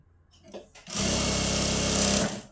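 A sewing machine runs loud and close in one steady burst of about a second and a half, stitching a folded hem on a katori blouse. A few soft handling sounds come first.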